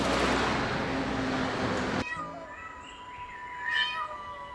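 After a burst of loud noise cuts off, thin high-pitched cries of lost stray kittens sound faintly, a couple of wavering mews over quiet ambience.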